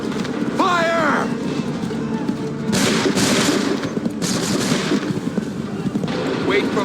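A musket volley fired on command in Assassin's Creed III, with bursts of loud, crackling gunfire over a steady din of battle noise and shouted voices.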